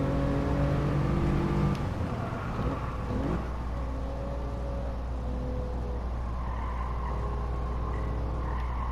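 A car engine in Gran Turismo 7 revs and drones while driving, with pitch climbing, dropping sharply near the two-second mark, then rising again in sustained tones. No talking.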